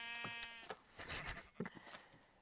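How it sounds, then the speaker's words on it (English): A Minecraft sheep bleats in a short wavering call up close, followed by soft game sounds and clicks, with no one talking. "kill a sheep on the way"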